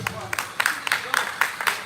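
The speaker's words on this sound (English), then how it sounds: "Wonderful hand of applause." An audience applauding at an Igbo arts and culture festival, a patter of overlapping hand claps, moderately close, with a voice talking over it.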